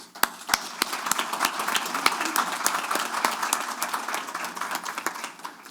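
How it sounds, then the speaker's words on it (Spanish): A small audience at a university talk on a Ministry of Justice and Human Rights in Uruguay claps, with sharp individual claps standing out over a sparse, uneven patter. "un aplauso a ustedes"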